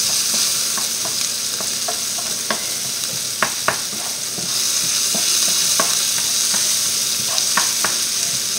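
Garlic, onion and shallot sizzling in meat juices in a pan for coconut curry chicken, a steady close fry broken by scattered sharp crackles and the scrape of stirring.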